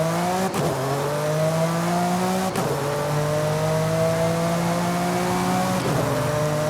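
Porsche 991 911 GT3 RS racing in Forza Horizon 5, engine howling steadily with three sharp gear changes spaced a few seconds apart, each a brief break before the note resumes, loud and continuous.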